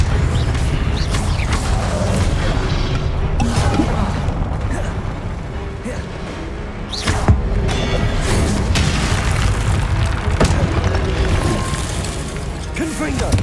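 Spell blasts and crashing impacts from the video game Hogwarts Legacy, loud and dense with repeated booming hits and mechanical clatter through a battle, under voices calling out spells.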